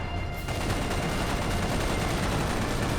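Rapid automatic gunfire from the video game Serious Sam 3: BFE, a dense, loud, continuous burst of shots starting abruptly after a brief quiet moment, with no talking.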